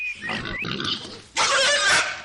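Large White Yorkshire pigs grunt and squeal in a bursty, overlapping chorus, close and fairly loud, with a sharper, louder squealing burst in the second half.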